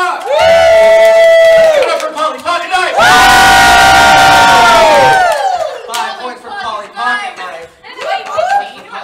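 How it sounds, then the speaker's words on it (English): A game show audience at a live event yells and whoops in loud sustained bursts, a big roaring cheer mid-way, with shouting voices and chatter around it. "if you think that they deserve the win, we should cheer a little bit louder"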